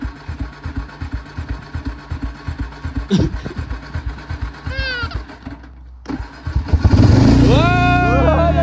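A Chinese 500cc quad bike engine putters unevenly, stalls briefly, then is cranked and roars back to life, revving loudly up close.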